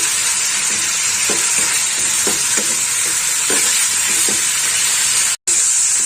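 Tomatoes fry in a pan for Bengali egg curry (dimer jhol), giving a steady loud sizzle and hiss. A few soft stirring scrapes land at intervals, and the sound cuts out briefly near the end.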